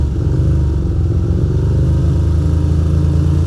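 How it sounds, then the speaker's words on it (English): Ducati motorcycle idling and revving on a rainy, foggy city street in New York, a loud, close, rumbling low engine throb held steady throughout. "why is he revving his bike?"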